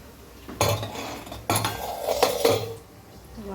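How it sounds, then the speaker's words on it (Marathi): A cooled pressure cooker of spiced masale bhat is unlatched and its metal lid lifted, giving a few loud, close metallic clanks and scrapes over about three seconds, with no talking. "आता उघडून बघू आपण आपला मसाले भात कसा झाला."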